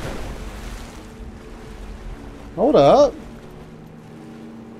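Water in the Rise of the Tomb Raider video game, a steady wash of surf-like noise running throughout, with a short spoken interjection briefly rising above it.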